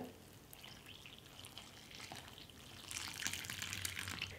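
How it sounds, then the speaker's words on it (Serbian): Faint pouring of 320 ml of hot water into a bowl of dry ingredients, a soft trickle that grows fuller and louder toward the end. "Dodat ću 320 ml vruće vode"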